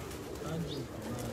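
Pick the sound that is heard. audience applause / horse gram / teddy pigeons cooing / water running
teddy pigeons cooing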